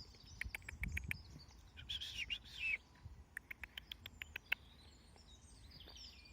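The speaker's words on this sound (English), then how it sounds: "This little bird here wants to" A small wild bird chirps in the woods, with faint, quick, sharp tweets in irregular bursts and short trills over quiet outdoor ambience.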